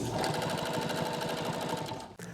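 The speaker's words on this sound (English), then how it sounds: "We'll be making a sharp 90-degree turn here to continue sewing along the next edge." A sewing machine stitches couch cushion fabric and boxing, running in a steady, fast, close mechanical chatter that pauses briefly near the end at a sharp corner turn, then resumes; no talking.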